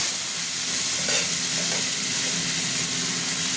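Tomato drops into hot oil already frying cumin seeds, bay leaf and dried red chilli, and a loud, close, continuous sizzle and hiss follows with a brief stirring scrape.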